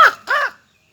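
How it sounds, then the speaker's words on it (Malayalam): A crow gives two loud, close caws in quick succession, and then everything goes silent. "കാക്ക കരയുന്ന ഇവിടുന്ന് കരയുമ്പോൾ കാക്ക വരും സാധാരണ"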